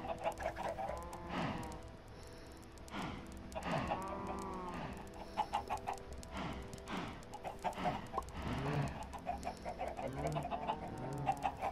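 Minecraft chickens cluck repeatedly in a farm setting, with several overlapping birds giving steady, fairly close calls and a few short crow-like squawks across the clip.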